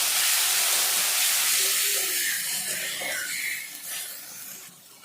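Ground spice paste hits hot oil with cloves, cardamom and cinnamon for a Baul fish kalia, giving a loud broad sizzle and hiss that slowly fades as the frying settles.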